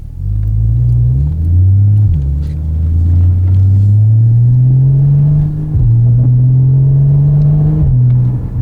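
A Porsche Boxster S 981 engine pulling under load while driving, a loud, close droning growl that climbs through the revs, dips at several gear changes, then climbs again.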